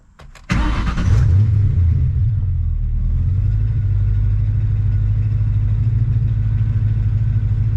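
A Ford car engine with an idle problem cranks briefly, catches with a loud burst, then settles into a steady, heavy rumbling idle close by.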